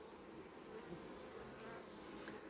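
A faint, steady buzz of honey bees hovering around their hive, soft and continuous with no voices.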